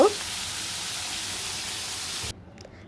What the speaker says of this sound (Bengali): মাছটা একটু খুব সুন্দর করে হালকা করে ভেজে নিচ্ছিলাম